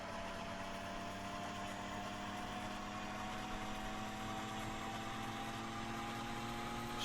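A Bf 109 G-6 engine start-up in Microsoft Flight Simulator 2020 comes through as a steady, faint mechanical drone with a constant whine, unchanging throughout and with no speech.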